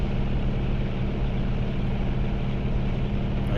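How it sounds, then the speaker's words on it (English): Aircraft engine noise from the flight simulator game Microsoft Flight Simulator 2024 drones steadily, a dense low roar with a buzzing propeller-like texture that stays constant and loud, with no voices over it. "I could just turn down the engine sounds."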